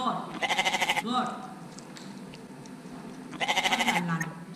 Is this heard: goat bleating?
yes